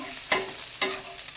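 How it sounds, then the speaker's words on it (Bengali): Chopped onions frying in a pan over a low flame, a continuous close sizzle broken by two sharp scraping stirs of a spatula. "তো আমি এর মধ্যে পেঁয়াজ কুচিটা দিয়ে দিয়েছি ভাজার জন্য"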